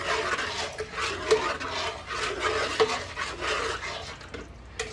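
A heavy pot of thick white jambalaya is stirred with a spoon, producing continuous thick, wet churning scrapes and occasional knocks against the pot, moderate and close, with no voices.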